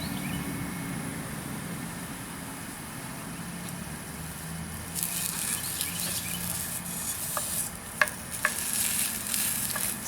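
Meat browning in a cast-iron or stainless steel skillet for biscuits and gravy, with a steady low sizzle that grows brighter and louder halfway through, broken by a few sharp scrapes or clicks near the end.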